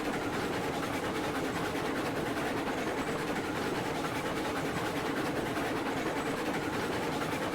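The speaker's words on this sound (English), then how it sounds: "This is the first time for me to run on this track with any train." A train rolls along track in the railway game Railroads Online, a faint, steady rumbling wash with soft rhythmic rail clatter and no pauses.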